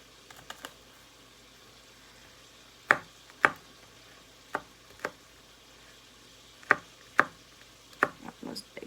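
A knife chops food into large chunks, about three pieces each, on a cutting board while making chili: sparse, sharp, separate thuds with uneven gaps between them, fairly close and moderately loud, with no talk.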